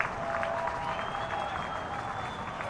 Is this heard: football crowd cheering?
yes